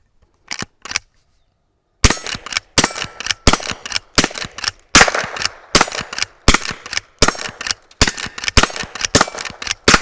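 Federal .22lr shotshells fired from a Henry H001 rifle with a rifled barrel: sharp cracking shots, two spaced single rounds and then a rapid string of more than a dozen evenly paced reports, loud and close.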